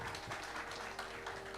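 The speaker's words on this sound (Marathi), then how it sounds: "त्याच्यासाठी जोरदार स्वप्नीलसाठी टाळ्या" Audience applause for a singer at a Marathi stage music programme, a dense steady wash of clapping that fills the short stretch at an even level over a faint sustained musical tone.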